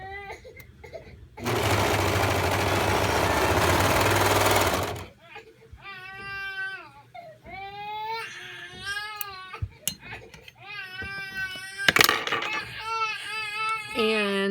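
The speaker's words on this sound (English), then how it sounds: "Make sure that you're pulling everything, that you don't get any extra fabric underneath the machine when you're sewing along." A sewing machine runs steadily for about three seconds while sewing a sleeve seam, a loud continuous whirring buzz; afterwards a person speaks over quieter background sounds.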